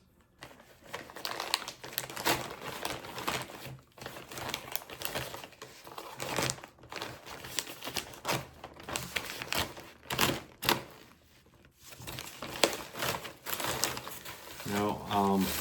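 Plastic packaging around an RC car chassis crinkles and crackles in irregular close bursts, continuing throughout at moderate loudness.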